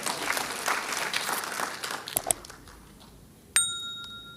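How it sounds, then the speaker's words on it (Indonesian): A congregation at a church sermon applauds with a burst of steady clapping that stops after about two seconds. A brief quiet follows, then a bright bell-like ding rings out and lingers. "Tepuk tangan buat bahasa Indonesia."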